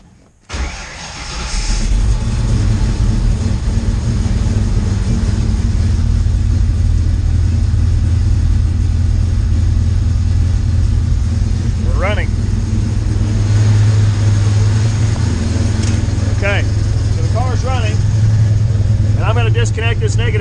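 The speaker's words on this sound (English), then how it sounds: "See, the car stays running." A car engine starts and then idles with a steady, loud, low rumble, with a few brief chirps and clicks late on as a battery negative terminal is disconnected.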